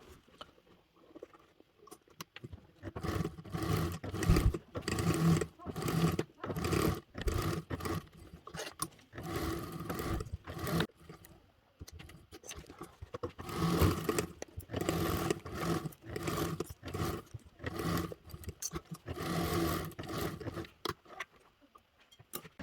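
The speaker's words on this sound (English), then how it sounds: "we're going to top stitch along there, but then we're going to continue and we're going to base stitch all the way around all the edges as well" A sewing machine top-stitches and base-stitches around the edges of a fabric panel in close, uneven bursts of rapid chattering with brief pauses between runs.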